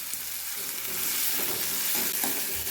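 Sliced onions fry in a pan for a stuffed brinjal curry, with a continuous close sizzle and light stirring rustles and no talk.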